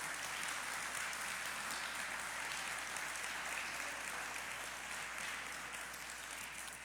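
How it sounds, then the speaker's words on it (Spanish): Sustained applause from a church congregation fills the room as a dense, even wash of many hands clapping at once, steady and fairly distant, with no voices over it. "Dale un aplauso al Rey si es que estás viviendo una vida nueva"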